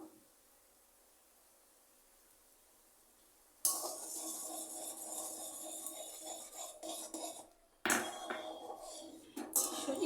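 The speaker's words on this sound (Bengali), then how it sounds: "এটা নাড়তে হবে নাড়া বন্ধ করলে দলা পাকিয়ে যাবে" Semolina is stirred into boiling water in a pot, a steady scraping, swirling clatter starting after a quiet opening, with a brief pause near the end before stirring resumes close by.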